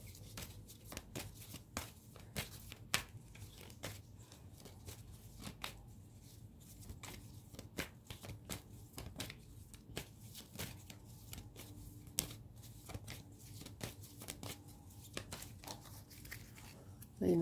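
Tarot cards being shuffled by hand at a reading table, giving a steady run of soft riffling and flicking taps, fairly quiet and close, with low background hum throughout.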